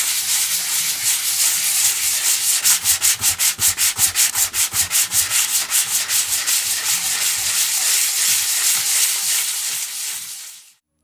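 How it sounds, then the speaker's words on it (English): An orbital air sander works the wooden surface of a handmade stump chair, giving a steady, loud, abrasive rasping hiss with a pulsing rhythm midway that runs continuously before cutting off at the end. "now I have sanded it with my orbital air sander"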